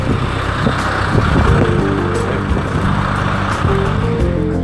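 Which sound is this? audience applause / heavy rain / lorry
lorry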